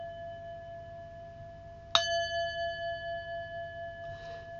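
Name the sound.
Tibetan singing bowl ringing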